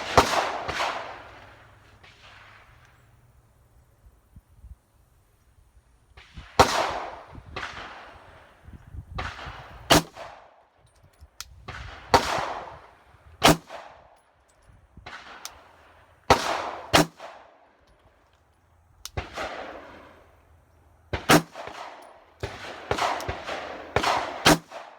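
A SIG P229 Legion pistol fires on an outdoor range, sharp loud shots in separated bursts with ringing decay and quiet gaps between groups.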